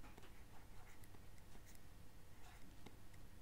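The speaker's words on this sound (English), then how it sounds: "write the word kitab again" A pen scratches out the Arabic word kitab in quick, faint strokes, close and soft, with a steady hiss beneath and no talking.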